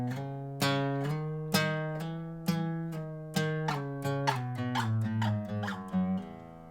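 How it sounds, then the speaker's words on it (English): Guitar scale played slowly, each note struck and then slid or hammered up to the next pitch, single notes ringing one after another with clear, gentle attacks in a quiet room. "the articulations I gave you, one is to hammer on and then slide. So you strike and slide."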